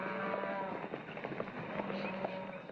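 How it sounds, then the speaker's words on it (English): A large herd of cattle moos repeatedly in overlapping calls, close and continuous, with a faint background murmur. "That's the biggest bunch of cattle ever rounded up in this valley."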